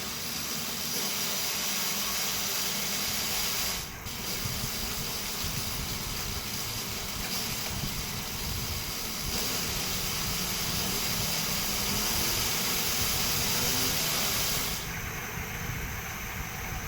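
An e-bike motor on a test run, a steady loud whirring hiss held for the whole stretch, with a brief dip near the start and a shift in tone toward the end as gears change, with no talking.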